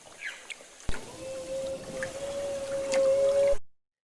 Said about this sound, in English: the humpback whale song